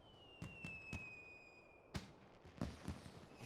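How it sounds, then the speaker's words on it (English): Fireworks in Final Fantasy XIV: a whistling rocket rises, then a series of sharp pops and crackling bursts go off at moderate distance, one after another, with no talking. "Neat. fireworks."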